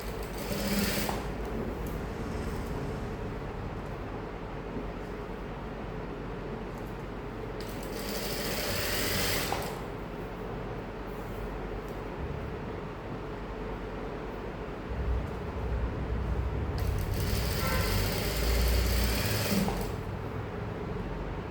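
An electric sewing machine stitches along the folded edge of a saree blouse, humming steadily up close, with several louder, faster runs of rapid needle clatter between slower stretches.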